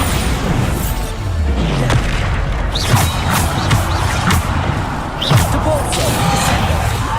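Heavy booming blasts from the Bombarda explosion spell in Hogwarts Legacy land repeatedly at irregular intervals over a loud, busy backdrop of game noise and effects.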